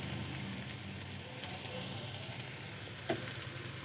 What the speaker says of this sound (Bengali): এইভাবে করে আমি লতিগুলো ভেজে নেব।